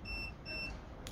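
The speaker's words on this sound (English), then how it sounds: "I've got a beeping noise in here." Inside a Frankia Titan luxury motorhome, a faint high electronic beep sounds twice in a quick even rhythm against a quiet background.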